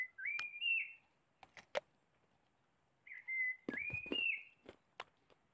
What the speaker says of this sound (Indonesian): Di sebelah kanan ada suara burung-burung sedang